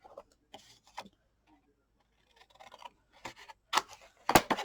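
Scissors snipping an angled corner off a square where two score lines meet on a paper folio, a few crisp close cuts building to a sharper final snip, with no talk.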